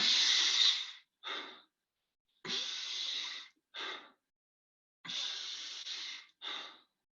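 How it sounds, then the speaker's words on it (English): Deep breathing from a Wim Hof breathing exercise, heard close and alone. Three cycles repeat: a long forceful inhale, each followed by a shorter, softer exhale, with brief silences between them. "So 30 to 40 of the deep breaths, shallow exhales."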